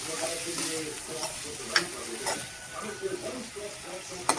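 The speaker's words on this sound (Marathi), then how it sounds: "परतून घेऊया।" Moth beans (matki) sautéing in a pan, with a steady crackling sizzle and scraping stirs from a spoon, plus a few sharper clinks against the pan; a faint voice can be heard in the background.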